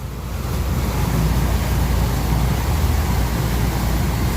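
Steady rushing splash of a fountain in Bryant Park, New York, water tumbling across a dark stone surface, a continuous close broadband roar that rises in the first half second and then holds evenly, with no talking.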